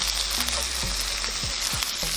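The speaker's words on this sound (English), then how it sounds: "we're going to go in order of cooking length, starting in my case with the carrots that require a bit longer to cook, and of course the cabbage as well." Carrots and cabbage fry for nasi goreng in a pan, giving a steady close sizzle with a few soft utensil scrapes and knocks, and no voices.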